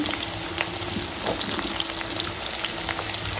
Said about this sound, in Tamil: இதுல பாவக்காயை டைரக்டா போட்டுக்கிறேன்.